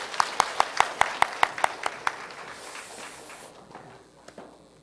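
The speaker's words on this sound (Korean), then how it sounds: "박수로 환영하겠습니다." A church congregation claps in welcome for a speaker, about ten crisp, evenly spaced claps in unison that soften and thin out into a quiet room.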